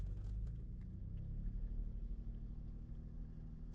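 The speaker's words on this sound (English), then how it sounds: "Let's just see if I can stall the engine" Engine of a 2011 Cadillac SRX idling with its camshaft being actuated during timing-fault testing, a steady, close, loud low rumble that stays even throughout with no speech over it.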